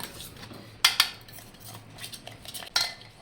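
Caramel being mixed into rice powder for a milk cake in a home kitchen: a few sharp spoon-against-pot clinks and scrapes, two close together early and one more later, over quiet stirring.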